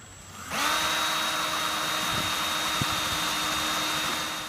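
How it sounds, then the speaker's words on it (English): A power drill with a 1/4 inch bit bores into a barn wood box, its steady, close motor whine starting abruptly after a short quiet moment and running evenly without a break. "So now I'm going to drill it and hang it."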